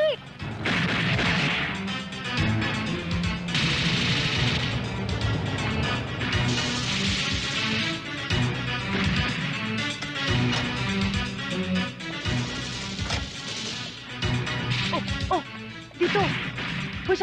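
Gunfire and crashing bangs ring out in an outdoor action movie shoot near Banaue, Ifugao, repeated sharp bursts over loud busy background and shouted voices.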